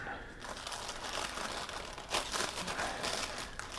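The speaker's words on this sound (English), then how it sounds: "We're going to unwrap this brisket and" Foil or paper being unwrapped from a cooked brisket resting in a pan, continuous close crinkling and crumpling rustle, quiet with slight swells and no clear speech.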